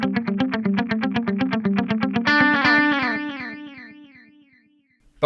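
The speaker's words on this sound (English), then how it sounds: "All of my delay repeats are going to have this flanger on them now." Flanger in an Axe Fx III applied to delay repeats, with fast rate and full mix on a guitar: rapid repeated notes sweep and swirl with a metallic whoosh, then a long flanged trail fades out to near silence.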